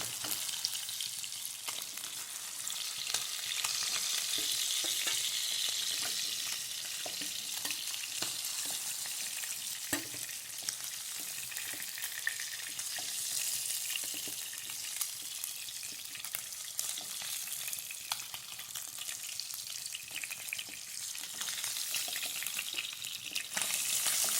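Pieces of food frying in a pan, a continuous bright sizzle with dense crackling and popping that stays steady and close throughout, no voices.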